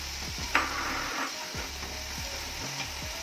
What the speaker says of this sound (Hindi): ऑयल गरम करने के बाद आप इसमें टमाटर डाल लें, हरी मिर्चें इसके साथ